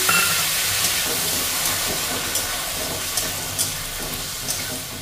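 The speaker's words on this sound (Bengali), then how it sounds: "এবার এটাকে আমি ভালো করে কষাবো। দিয়ে দেবো একটু জল।" Steady close hiss and sizzle as water hits spiced banana flower frying in a pan for a vegetarian mochar ghonto, continuous throughout with faint crackles and no talk.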